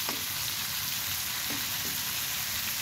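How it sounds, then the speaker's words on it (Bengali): Pointed gourd frying in leftover prawn-frying oil, a dense, even sizzle close up with a few soft scrapes of stirring underneath. "চিংড়ি মাছ ভাজার ওই তেলেই আমি পটলগুলো সুন্দর করে ভেজে নেব।"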